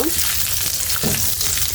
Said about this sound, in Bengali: আমি কিশমিশ দিয়ে দিলাম, দিয়ে আবারও ভালোভাবে ভেজে নিব